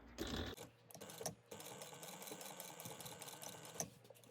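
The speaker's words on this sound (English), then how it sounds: "we're going to sew through this right along the edge at 1/8 of an inch" A sewing machine stitches along the edge of a fabric pouch an eighth of an inch in, running as a steady, even mechanical whir close by with a few brief catches and bumps.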